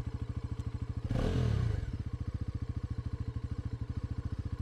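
A Bajaj Pulsar NS400Z motorcycle engine in sports mode thumps at a steady, rapid idle pulse, with a brief louder surge and clatter early on before settling back.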